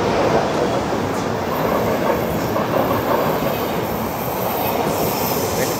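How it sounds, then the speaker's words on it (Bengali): A train runs through a station without stopping, making a loud, close, continuous rumble with faint wheel squeals and rail clatter throughout. No speech is heard. "এটাও এখানে থামবে না,"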